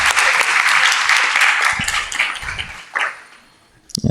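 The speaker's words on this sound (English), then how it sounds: "let's give a big round of applause to all the newly initiated devotees" An audience claps loudly for newly initiated devotees at a devotional gathering, the applause sustained at first, then thinning to scattered claps and fading out.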